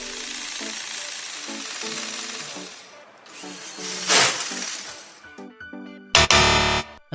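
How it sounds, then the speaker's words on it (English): A toy LEGO car fitted with a motorized chainsaw head grinds against a paper wall in bursts of buzzing whir, with ripping and tearing noises and a loud close scrape midway, then a final harsh, intense burst. "a new warrior equipped with a powerful chainsaw head"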